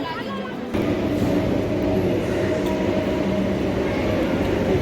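A Kolkata Metro train rumbles into the station, a loud steady roar of wheels and motor building after a brief quieter moment at the start.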